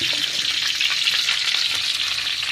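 Cumin seeds sizzling steadily in hot oil, a dense, continuous crackle close by with faint stirring scrapes and no talking.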